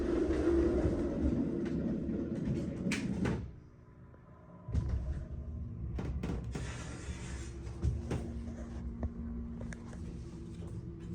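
An American Elevator Company hydraulic elevator at a hotel goes up: a steady low rumble runs throughout, broken by a short quiet gap, then a clunk and rattling mechanical noises as the car travels.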